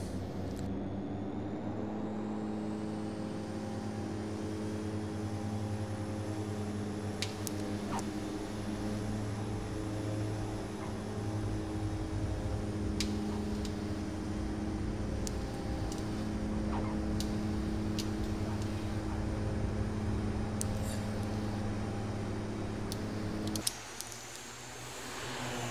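An Aerosoft Twin Otter twin-engine propeller plane taking off in a flight simulator produces a steady, droning engine hum with strong tonal layers, held throughout and then shifting abruptly near the end.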